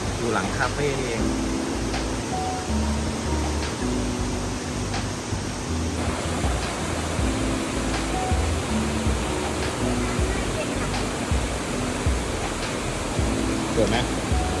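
Phlio Waterfall in Chanthaburi, Thailand, rushes as a steady, broad roar of falling water behind a cafe, with people talking over it throughout.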